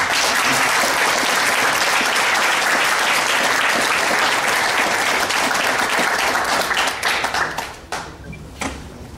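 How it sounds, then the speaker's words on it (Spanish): Loud, dense audience applause at an assembly, with many hands clapping steadily before the sound thins into a few separate claps near the end. "Y vamos a darle un aplauso aquí a nuestro amigo."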